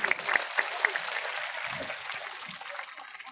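Applause from a crowd welcoming a speaker at a large khap panchayat gathering, a steady patter of clapping at moderate distance that fades gradually toward the end.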